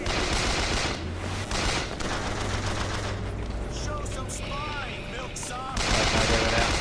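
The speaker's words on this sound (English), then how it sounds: "Where are these dudes that are shooting me out?" Dense, continuous gunfire and crackling blasts in Bioshock Infinite, played on 1999 Mode, fill the scene loudly from start to finish, with brief chirpy game effects in the middle.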